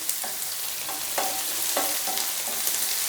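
Food sautéing in a pan for Chettinad egg masala, an even hissing sizzle with a few soft spatula strokes scraping through it at irregular intervals.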